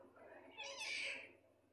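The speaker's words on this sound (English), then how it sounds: "My cat's meowing." A pet cat indoors gives a single short meow near the middle, faint against a quiet room.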